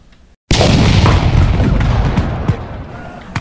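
Civil War artillery cannon fire effect: after a brief silence, one loud close boom erupts and rolls on in a long rumbling decay with faint crackles.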